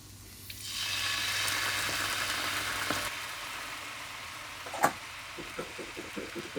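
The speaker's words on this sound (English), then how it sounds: "What I do is I fry them for 8 minutes." Chicken wings bubble and sizzle in hot oil in a deep fryer basket, a steady loud frying hiss that later settles, with a few soft clinks and taps of the basket near the end.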